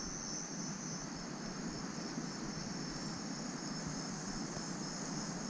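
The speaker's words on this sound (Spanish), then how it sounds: "Escuchen los grillos." Crickets chirping at night beside a river campsite, a faint, even high-pitched trill running steadily throughout under a soft low background hum, with no voices.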